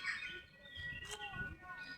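Birds near a bridge in a natural setting with ducks around, chirping in a few quick bright tweets and trills at low volume, heard faintly among quiet background sound.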